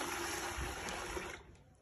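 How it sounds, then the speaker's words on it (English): Water pours and gushes steadily into a soil sample during a decant and stir soil test, a continuous hissing splash that thins out toward the end of the short moment. "pour more water"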